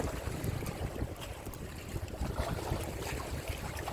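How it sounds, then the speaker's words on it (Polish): Sea wind blows against the microphone outdoors by the sea, a loud continuous buffeting rumble with gusty bursts and no voice. "Wiatr, słuchajcie, wiatr od morza."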